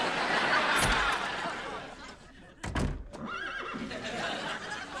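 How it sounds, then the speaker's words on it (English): A horse neighs, a wavering whinny rising out of rustling background noise after a short thump. "Was that a horse nay"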